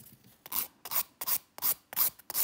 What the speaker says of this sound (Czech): Vezmu si pilník,